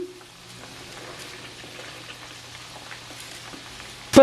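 Okra frying in hot oil until crisp and golden brown: a soft, steady sizzle with faint crackles and pops runs evenly throughout, ending in a brief louder clatter.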